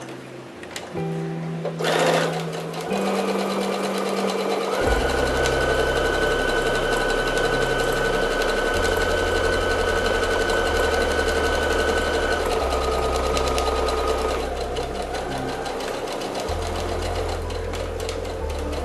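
A sewing machine runs a backstitch through fabric for a bowl cozy, its motor a steady, close, loud mechanical hum with rhythmic needle chatter that shifts pitch slightly as it speeds and slows, with no talking.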